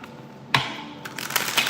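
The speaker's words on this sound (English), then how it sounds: "Let me shuffle, okay?" Tarot cards are shuffled by hand, with soft riffling and snapping card sounds that start after a quiet moment and continue close and fairly faint, with no talking.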